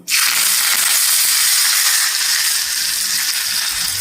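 Asafoetida and curry leaves hit hot oil for a tempering, giving a loud, steady hiss and crackle that erupts at once and sizzles on without letup.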